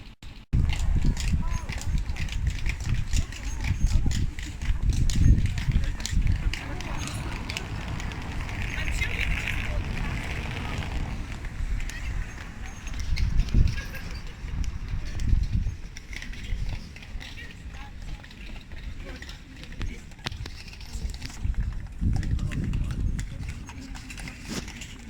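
Horse hooves clip-clop steadily on a hard street in Krakow, Poland, alongside a rolling cart, with people talking nearby over outdoor background noise.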